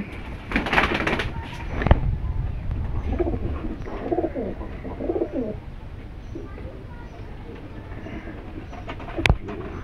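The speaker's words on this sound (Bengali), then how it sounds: "এটা নর কবুতর আর কি।" Soft coos of a pair of Dhakai pigeons come and go close by amid rustling and a low background rumble, with a sharp click near the end.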